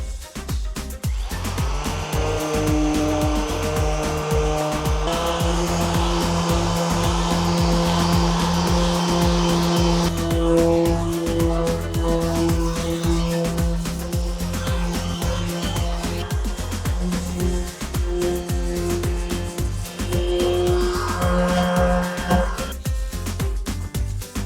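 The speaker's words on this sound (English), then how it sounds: "So I'm going to finish sanding the top of the fender flares" A power sander runs continuously for the whole stretch, a steady loud whine with shifting pitch as it works across the top of Jeep Cherokee XJ fender flares.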